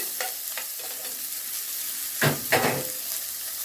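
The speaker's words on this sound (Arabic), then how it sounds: "حطيت حبة زيت ومعلقة سمنة أو زبدة، جبت كده بصلاية كده أشوحها فيها" An onion sautéing in oil with a spoon of ghee or butter, a steady close sizzle with a few soft stirring scrapes, two stronger strokes near the end.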